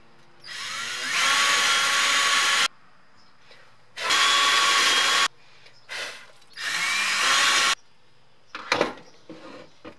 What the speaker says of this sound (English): So we're going to drill our tuning peg holes here with a 1/4